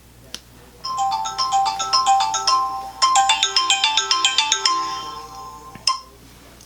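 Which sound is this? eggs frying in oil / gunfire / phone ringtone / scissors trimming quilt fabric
phone ringtone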